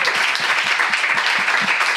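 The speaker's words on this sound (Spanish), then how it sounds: "JJ Vaquero, fuerte aplauso." An audience claps loudly and steadily for guest JJ Vaquero at a Spanish television comedy show, a dense wash of hands with no voices over it.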